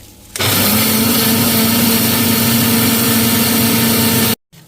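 An electric mixer grinder whirs at full speed while grinding dried red chillies into powder. The loud, steady motor roar starts suddenly and runs evenly before cutting off sharply.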